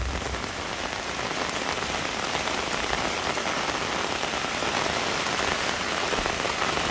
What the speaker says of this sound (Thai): บรรยากาศฝนตกพี่น้องจ๋า